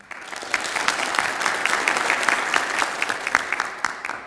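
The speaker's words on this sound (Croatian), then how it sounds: "Molim vas jedan aplauz za sjajnog Dušana Gamsera" Studio audience applauding for Dušan Gamser, a steady, dense wash of clapping hands that holds for several seconds with sharper individual claps popping out, no voices over it.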